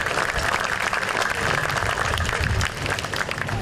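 Sustained crowd applause at a Clarkstown Memorial Day tribute ceremony, steady dense clapping throughout at close range with no break.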